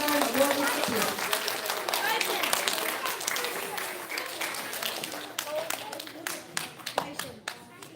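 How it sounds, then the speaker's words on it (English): Audience applause at an elementary school recognition ceremony for kindergarten award recipients, a steady wash of clapping hands through most of the span, thinning toward the end into scattered claps. "Can we have a round of applause for our kindergarten award recipients?"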